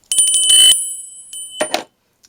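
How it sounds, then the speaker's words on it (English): A hand-carved beaver bell rings with bright, sustained metallic tones, one firm strike then a shorter second ring, close and loud before fading out. "Then we have a hand-carved beaver bell"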